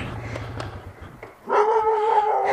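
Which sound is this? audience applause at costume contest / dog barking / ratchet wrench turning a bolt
dog barking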